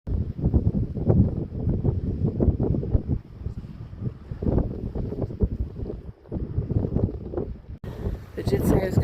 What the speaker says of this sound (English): I did say it was going to get very windy